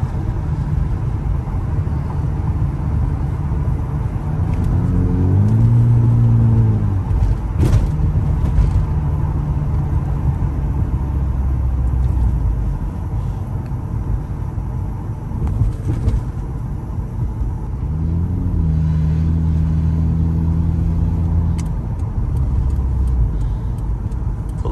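A Honda Accord with a K24 engine driving on the road, a steady loud engine drone and road rumble from inside the car, with the engine note rising and falling twice as it shifts through gears.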